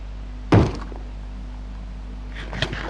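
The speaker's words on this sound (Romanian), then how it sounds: "Bă, sparge la ușa." A Minecraft zombie breaks at a door in the video game: one loud, heavy thunk, then a softer knock near the end over a steady low hum.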